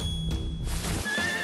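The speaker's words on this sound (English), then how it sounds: "What? Is it a horse?" A horse neighs loudly in a short whinny with rising and falling pitch, heard alone with no talk over it.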